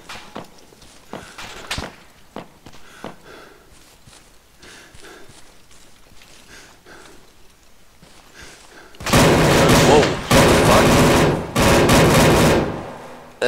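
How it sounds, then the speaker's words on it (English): Gunfire in a military video game begins with scattered sharp shots and footsteps, then turns into loud, dense bursts of automatic fire over the last few seconds. "I think we're taking fire from the camp."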